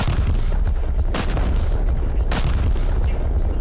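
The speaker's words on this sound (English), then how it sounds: "ranging shot allows you to shoot one shell at a time" Two heavy booms from a warship's main guns firing single ranging shells in War Thunder, each a sharp loud blast with a rumbling tail, spaced about a second apart over a low continuous engine drone.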